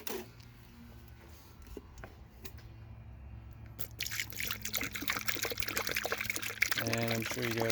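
Deionized water splashes and gurgles as it is poured into a car radiator, a quiet start building into a loud, steady close-up pour with bubbling glugs.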